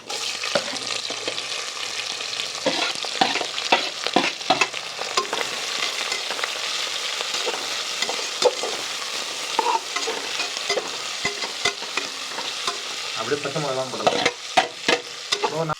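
Onion, green chili, cinnamon and clove fry in oil for a pressure-cooker biryani, a steady close sizzle broken by frequent clattering stirs and scrapes, with no talking.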